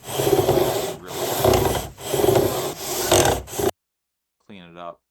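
Guitar frets sanded with a leveling beam, four long close rasping strokes back and forth with brief pauses between, then silence and a short spoken word at the end.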